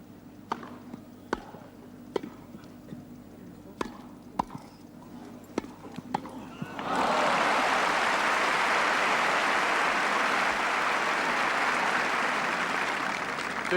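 A Wimbledon crowd at the 1977 Borg versus Gerulaitis semifinal bursts into loud, sustained applause after a rally. The applause follows sharp, spaced tennis ball hits on grass.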